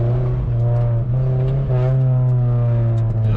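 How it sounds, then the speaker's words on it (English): A 1979 Chevy Luv truck drones through its exhaust while driving, a loud, steady, throaty hum close to the microphone with small shifts in pitch. "Oh, that exhaust is nasty"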